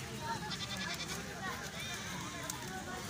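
Rajanpuri goats on a farm bleat faintly in the background while several people talk nearby throughout.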